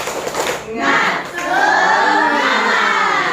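A group cheers and shouts together, voices rising into a loud, sustained crowd roar with some clapping mixed in.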